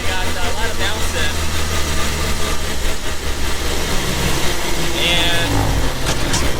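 A mini military Jeep Rubicon drives at about 25 mph, its engine a steady, loud drone with broadband road and wind rumble, bouncing over the ground throughout without letting up.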